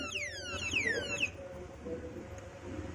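An alarm padlock's siren sweeps in rapid repeating wails for about a second, then stops abruptly, leaving faint background hum.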